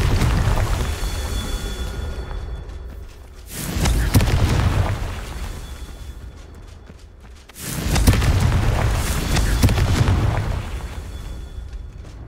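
Confringo fire-spell blasts in the video game Hogwarts Legacy, two heavy booming explosions a few seconds apart, each followed by a rumbling fade, loud and close with no talk.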